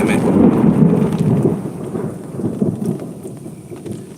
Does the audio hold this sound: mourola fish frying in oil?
no